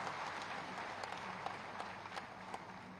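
An audience at a ceremony for a newly built sacred pond at the Baba Jaharveer Gogamahadi pilgrimage site in Saharanpur claps to welcome the chief minister, steady distant applause with a few sharper claps standing out.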